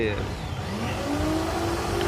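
A repaired electric drill, its gear fixed, runs with the chuck spinning, giving a steady motor whine that climbs in pitch, heard under someone talking.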